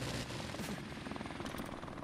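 Helicopter killstreak in Call of Duty 4 Remastered: steady dense rotor thumping and engine roar, close and continuous for a couple of seconds, with no talk over it.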